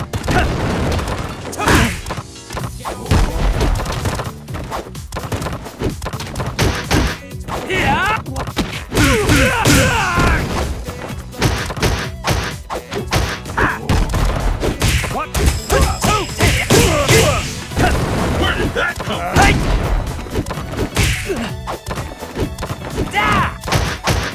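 Dudley's Machine Gun Blow in a Street Fighter match lands as rapid strings of thudding punches and whacks, repeating in dense bursts under energetic announcer-style commentary throughout.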